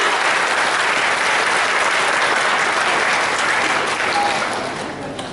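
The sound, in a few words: audience applause for BioGreen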